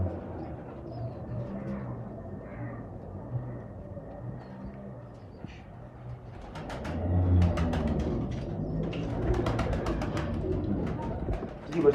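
Pigeons coo in low, repeated throaty phrases throughout, close and steady, with a burst of sharper bird calls and flutter-like clicks in the later half.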